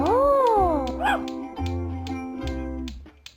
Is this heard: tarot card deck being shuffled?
no